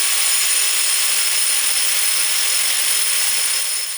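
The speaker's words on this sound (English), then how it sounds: "turns out this conical grinder attachment" Conical grinder attachment grinding a metal scooter sprocket for a Razor E300, a continuous, loud, high-pitched abrasive whine held steady at close range, easing off slightly at the end.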